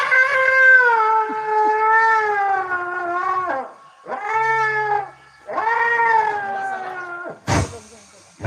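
A human voice imitates a cat, drawing out long wavering meows in three sustained calls with short pauses between them, loud and close, ending in a sharp burst of noise.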